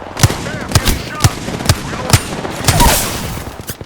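Rapid bursts of gunfire from a first-person shooter game ring out in about five sharp, evenly spaced cracks at close range, with a brief swell of game noise near the end.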